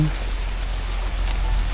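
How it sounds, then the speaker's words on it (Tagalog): Steady rain falls on a farm plot where banana suckers are being planted, a continuous even hiss throughout with a brief low voice at the very start. "Nabutan na po kami ng ulan."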